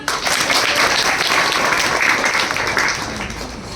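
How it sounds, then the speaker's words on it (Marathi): A group of children claps together in steady, enthusiastic applause at a Brahma Kumaris children's camp, fading slightly toward the end. "टाळ्या वाजवा."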